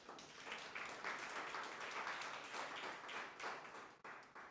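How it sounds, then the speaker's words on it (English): Audience applause at the African Nations Cup UK 2023 draw event in London, a steady patter of many hands clapping, faint and distant, swelling and easing over several seconds. "give him another hand of applause"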